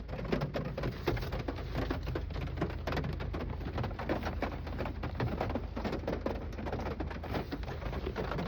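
Rain pours steadily over a roadside by a highway in the early evening, a dense, even patter of drops drumming on surfaces nearby with no voices.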